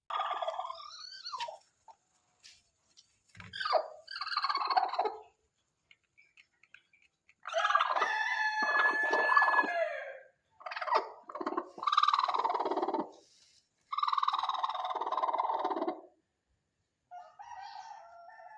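A chicken calls close by in repeated bursts, with a crowing, rooster-like cry among clucking phrases, separated by short quiet gaps.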